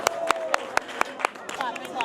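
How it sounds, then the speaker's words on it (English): Group of people clapping in unison, about a dozen sharp, evenly spaced claps in a steady rhythm, fairly close and loud, with a voice or two briefly audible toward the end. "We don't know what we're clapping about"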